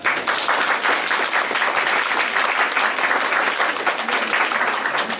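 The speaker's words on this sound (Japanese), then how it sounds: "この方々なしにコレクションはなかったので、手際の拍手をお願いします。" Sustained audience applause at a fashion collection presentation, dense and even clapping from a sizeable crowd at steady moderate-to-loud level for the whole stretch.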